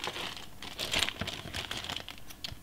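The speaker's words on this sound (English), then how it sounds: "Let me just cut the bag open." Plastic bag for an expensive model kit being cut open, a quiet close-up run of crinkling and snipping rustles with small ticks.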